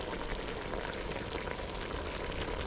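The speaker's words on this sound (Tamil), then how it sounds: "சிக்கன் வந்து எண்ணெயிலேயே கொஞ்சம் நேரம் நல்லா வதங்கிடுச்சு." Chicken pieces sizzle and fry steadily in hot oil with masala, a dense continuous crackle up close.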